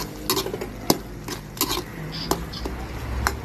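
A spoon stirs achuete powder into bopis simmering in a pot, giving light, irregular scraping clinks against the metal, close and fairly quiet, with soft bubbling beneath.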